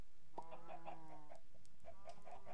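Minecraft chicken clucking from the video game, several short high clucks in two quick groups over a faint background, clear and close with no speech.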